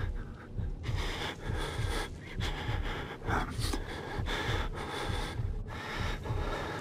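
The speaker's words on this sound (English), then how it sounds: "I wonder if they hear my breathing." The player character in the Outlast horror game pants in heavy, rhythmic breaths, steady and close, repeating throughout with no talk over it.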